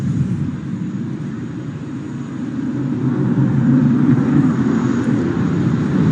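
LCA Tejas delta-wing jet fighter performing at the Dubai Airshow, a loud continuous jet engine roar that swells slightly as the aircraft pulls up, heard outdoors from the crowd line.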